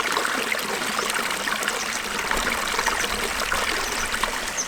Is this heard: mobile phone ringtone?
no